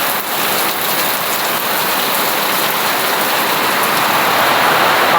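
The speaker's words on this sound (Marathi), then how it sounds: "पाऊस बघू शकता किती पडतं." Heavy rain pouring down outside a small village house, a dense, loud, unbroken hiss of drops striking surfaces that stays steady and even from start to finish, with no talking.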